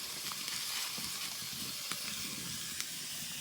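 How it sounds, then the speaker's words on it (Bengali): Cauliflower fries over a stove, a soft continuous sizzle and hiss with occasional faint pops and stirring clicks, close by and quiet, with no voices. "দেখুন বন্ধুরা, ভাজা চলছে, অনেকক্ষণ ভেজে নেব।"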